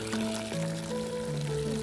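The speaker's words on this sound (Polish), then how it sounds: "Ja wleję trochę płynu, a ty odkręcisz kran." Tap water pours steadily into a bucket with washing-up liquid for a car wash, a continuous close stream with a shifting tonal hum.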